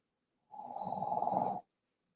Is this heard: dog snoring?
yes